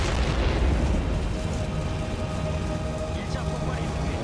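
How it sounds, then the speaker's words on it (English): A liquefied petroleum gas station fuel canister explodes and burns, heard as a sustained deep roaring rumble with crackling debris, loud and unbroken throughout. "Windows are shattered and dozens of cars destroyed in the mammoth explosion."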